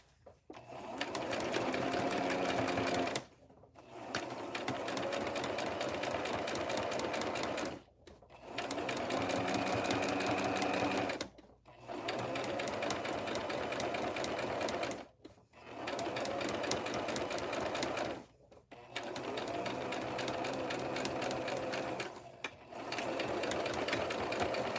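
Sewing machine top stitching a VikiSews Liliana vest in contrast thread, running in six steady bursts of rapid stitching, each a few seconds long, separated by short pauses, close and evenly loud.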